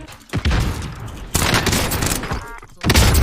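Gunfire in the video game Call of Duty Warzone, heavy bursts of rapid shots coming in loud waves with short gaps between them.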